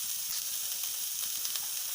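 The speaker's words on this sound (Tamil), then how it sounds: "இப்போ வெங்காயம் பூண்டெல்லாம் நல்லா வதங்கட்டும்." Onion and garlic sautéing in a kadai for a village-style Tamil chicken curry, a steady soft sizzle and hiss running evenly throughout, close and alone without any talk.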